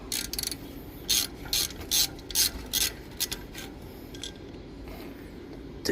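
Ratchet clicking in short repeated bursts while unscrewing a bolt on a BMW X3 G01 rear brake, crisp close metallic pawl ticks over a low background hum.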